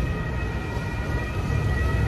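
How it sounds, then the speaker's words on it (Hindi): A police car siren wails steadily and loudly on a street in Italy, continuous and close, with traffic rumble underneath and no talking. "ये पुलिस सायरन से जा रही है"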